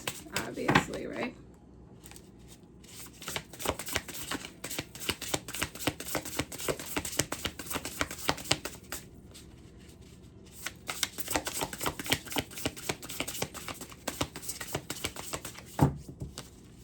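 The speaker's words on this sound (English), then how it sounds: "So it's one that you're going to want to shuffle like this, obviously, right?" A new tarot card deck being shuffled by hand, a long run of rapid crisp riffling and flapping close to the microphone with brief pauses, while a person talks throughout.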